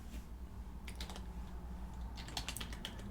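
Quick bursts of typing on a computer keyboard, close and quiet, two short clusters of key clicks over a steady background hum, no voices.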